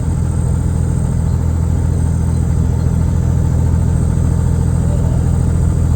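A truck engine drones steadily at about 1600 rpm while climbing a hill at around 50 km/h in the Adelaide Hills, a deep continuous rumble that stays loud and even throughout, with no voices.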